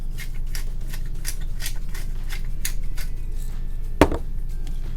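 Fresh black pepper cracked over about 1.5 pounds of cut potatoes in a Ninja Foodi pot, heard as a quick series of soft, scratchy grinder clicks over a low background hum, ending with one sharper knock.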